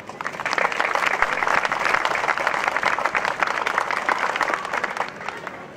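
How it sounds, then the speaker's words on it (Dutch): Sustained crowd applause for volunteers at a Dutch community Orange Committee festivity, dense steady clapping filling the whole stretch at even loudness, with no speech over it. "En niet alleen een applaus voor het Oranje Comité, maar ook voor alle vrijwilligers van diverse verenigingen die hier belangeloos aan meedoen."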